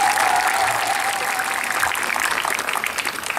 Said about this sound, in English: let us celebrate these survivors with a round of applause